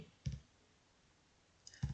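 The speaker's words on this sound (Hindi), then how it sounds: "तो हमारा पीजी पे हम क्लिक करेंगे।" A computer mouse clicks twice while someone fills in an online university examination form, with two short, crisp clicks about a second and a half apart in a quiet room.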